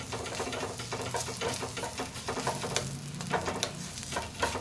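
Stuffed aloo paratha cooking in a pan after being flipped and brushed with ghee, a continuous crackling sizzle with small pops and scraping stirs, close and moderately quiet with no talking.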